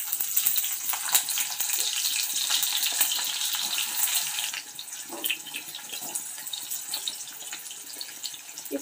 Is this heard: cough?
no